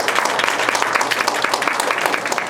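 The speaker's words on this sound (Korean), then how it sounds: "네, 박수 부탁드립니다" An audience at a disability-services research presentation gives brisk, steady applause, many hands clapping close and loud for a few seconds.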